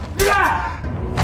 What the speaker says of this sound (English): The faulty garage door, the same one Louis had cursed earlier, comes crashing down with brutal force.